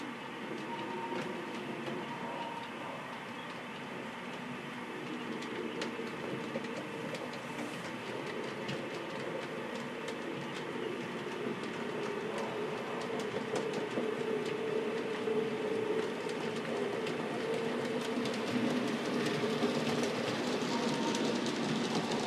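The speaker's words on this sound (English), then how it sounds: "our freight train is leaving Dixon and now is approaching and on the trestle over Huey Pond" A freight train rumbles continuously with faint rhythmic clicking of wheels over rail joints, growing slightly louder as it rolls at a distance onto a trestle over a pond.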